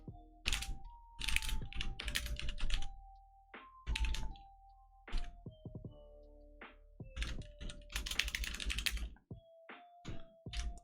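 Typing on a computer keyboard, bursts of rapid close key clicks separated by short pauses, with a faint steady tone underneath and no talk.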